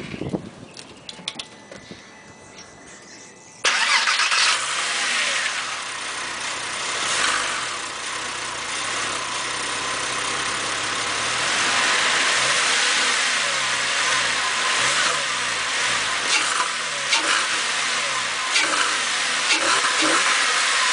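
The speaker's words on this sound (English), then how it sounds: "This is a cold start, 9 feet away from the car" A Porsche engine with an A.W.E. ECU upgrade cold-starts from about nine feet away, engine lid open, in 73-degree Southern California weather, catching with a loud burst, then settling into a steady, loud high idle that rises and falls in mild revs.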